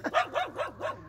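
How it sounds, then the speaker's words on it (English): A dog barks four times in a yard, each bark sharp and fairly close, spaced in a steady rhythm with short gaps between. "There's a dog in my yard."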